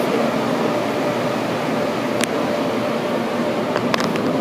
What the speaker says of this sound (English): I can hear the dryer.